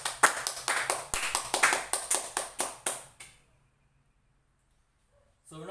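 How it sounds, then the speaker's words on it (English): A classroom group claps hands in a teaching demonstration, about a dozen sharp, evenly spaced claps in a steady rhythm over three seconds, then silence before a voice begins. "So let's clap our hands for group 2."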